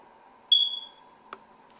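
A single short, high electronic chirp from a smoke detector sounds clearly in a quiet room, followed moments later by a faint click.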